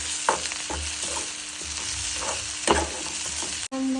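Cumin and mustard seeds frying in hot oil for a sprouted mung bean curry, a close crackling sizzle with spoon scrapes and knocks while stirring, ending in a sudden brief cut.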